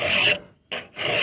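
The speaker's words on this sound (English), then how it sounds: "After you sharpen a damn tooth," A hand file rasps across a chainsaw cutter tooth to sharpen it: two close, loud strokes separated by a brief pause, with no voices.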